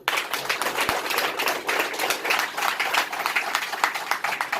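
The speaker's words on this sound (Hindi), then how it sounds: "जबरदस्त तालियां।" Enthusiastic audience applause at a business seminar: dense, steady clapping from a crowd, sustained and moderately loud throughout.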